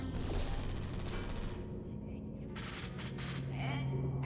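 Turrets fire in the video game Portal 2, rapid gunfire bursts in the first second and a half, then further bursts among game sounds and faint voices.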